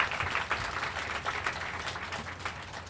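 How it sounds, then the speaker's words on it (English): Crowd at an indoor community event in Waterbury, Connecticut applauding Mayor O'Leary: steady, dense clapping from many hands spread across the room, moderately faint and continuous with no voices on top. "Let's give Mayor O'Leary a round of applause"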